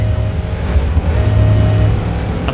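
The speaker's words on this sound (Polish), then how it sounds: "zobaczcie, przyjechał taki duży samochód" A big car drives in the racing game Forza Horizon 4, its engine giving a steady, loud, low drone throughout with faint ticking on top and no talk.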